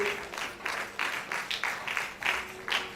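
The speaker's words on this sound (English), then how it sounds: "A round of applause for them, please." Steady crowd applause with rhythmic bursts of clapping, moderately loud and continuous throughout, no talking over it.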